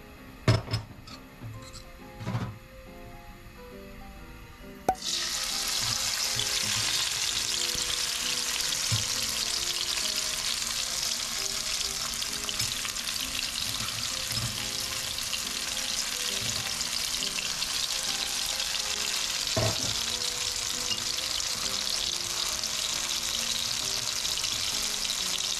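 A garlic, basil and chili mix hits a hot pan with a few clinks, then bursts into a loud, steady sizzle that carries on, with occasional knocks from stirring.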